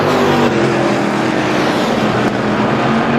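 Race cars roar around the oval at Star Speedway during a Strictly feature race, a dense, steady engine drone holding close and loud throughout with no pause.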